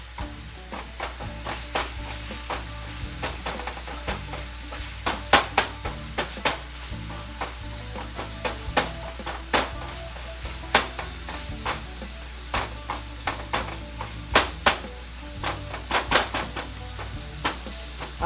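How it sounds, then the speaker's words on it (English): Ground hamburger meat sizzles steadily in a pot while a meat masher breaks it up, giving a continuous frying hiss broken by frequent sharp scraping and tapping strikes, close and moderately quiet, with no talking. "I love my little meat masher because you can use this and it makes it into small little pieces instead of having those big old chunks of meat."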